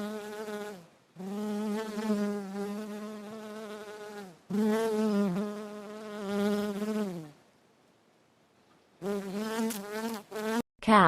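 A bumblebee buzzes in several long, steady, droning bursts with short silent gaps between them. The buzz is close and fairly loud, with no talking.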